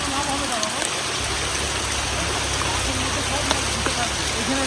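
Steady monsoon rain falls over a village pond where people are fishing, a dense, even patter and hiss close by that carries on unbroken throughout.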